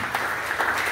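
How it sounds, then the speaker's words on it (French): Attendees at an official launch ceremony for a press solidarity group in Boma clap in a brief, scattered burst of applause, a few sharper hand claps standing out from the crowd's softer patter. "Applaudissons."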